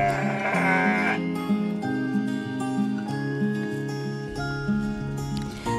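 Sheep in a herd bleating, several overlapping calls close by, loud and repeated over a continuous tonal backdrop, with no talking.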